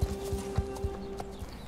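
Horse hooves clip-clop at a steady walking rhythm in a horse-riding video game, close and fairly soft, heard with no talking over them.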